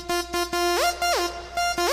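A bright, buzzy Logic ES2 synth lead plays short staccato notes, then slides smoothly up an octave and back down with glide, repeating the swooping glide with no voices.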